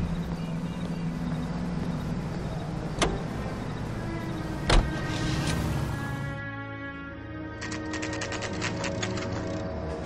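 Car driving in the video game L.A. Noire, a steady engine drone running throughout with a couple of sharp clicks, then the engine tone easing while a rapid mechanical rattle sets in near the end.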